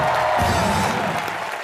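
Brief burst of studio audience applause on a Hindi comedy talk show, a dense patter of clapping that swells then tapers off within under two seconds.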